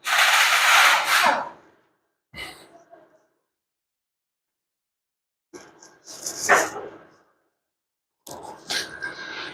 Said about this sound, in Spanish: Y nuevamente volvemos a hacer la acción de perforado.